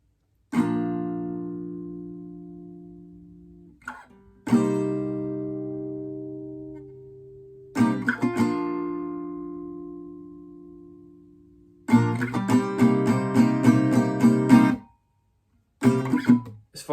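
Solo guitar runs through the whole bridge of a song, with single strums left ringing and fading, a few more sustained chords, then a busier rhythmic strummed section and a brief closing strum.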